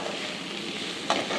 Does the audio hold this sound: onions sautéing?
yes